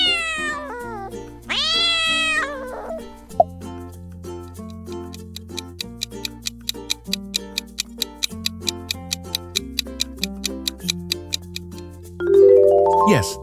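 A cat gives two clear, drawn-out meows at the start, followed by rhythmic clock-like ticking over soft background music.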